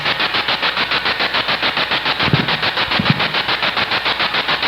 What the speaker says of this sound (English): You want me to turn the spirit box off? If I turn off the noise, will you talk to me?